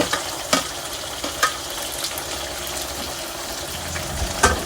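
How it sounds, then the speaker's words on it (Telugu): Ladle stirring tomatoes into a gongura prawn fry in a hot pan, giving a steady close sizzle with a few sharp scrapes and clinks of the ladle against the pan, no voices. "టమాటోలు వేసిన తర్వాత అయితే ఇప్పుడైతే కలుపుకుంటున్నాము గెంటి పెట్టి"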